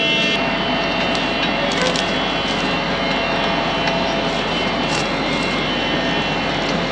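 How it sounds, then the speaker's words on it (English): A rebuilt seeder air cart fan motor runs at night on a farm in Jamestown, South Australia, giving a loud, steady mechanical roar and whine with faint clicks on top, unbroken throughout. "I haven't really looked at that fan motor since I put it back on"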